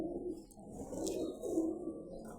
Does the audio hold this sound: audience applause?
no